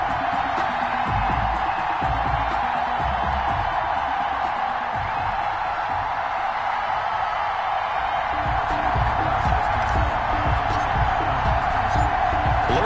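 A Buffalo stadium crowd roars steadily in an EA Sports NFL game as the Bills run out of the tunnel before facing the New England Patriots, a dense continuous wash of cheering with no break.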